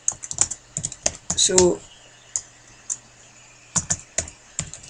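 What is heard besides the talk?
computer keyboard typing a command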